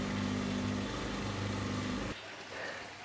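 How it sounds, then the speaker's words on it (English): A dishwasher fills with water, with air in the supply line, making a steady broadband rushing hiss over a low motor hum that drops abruptly to a quieter trickle near the end. "So that noise is the machine now filling with water"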